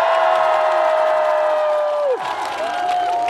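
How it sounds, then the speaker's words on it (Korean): A crowd at the 2023 Sangju World Hat Festival concert applauds and cheers, a dense wash of clapping and shouting heard at a distance behind a sustained musical tone that bends downward midway. "다시 한번 우리 상주를 위해서 다 같이 박수와 함성!"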